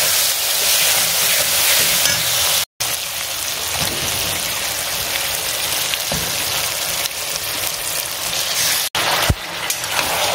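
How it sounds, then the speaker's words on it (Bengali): Spices with sugar, salt, turmeric and chilli frying in a pan, a steady close hissing sizzle that runs continuously with brief dropouts and a few soft stirring knocks. "এবার একটু ভাজা ভাজা হয়ে গেলেই চিকেনটাকে দিয়ে কষিয়ে নেবো"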